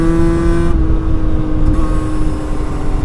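A motorcycle engine accelerates loudly and steadily at close range to overtake another rider, its pitch shifting partway through.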